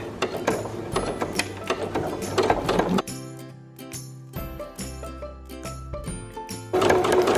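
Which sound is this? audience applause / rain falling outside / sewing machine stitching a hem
sewing machine stitching a hem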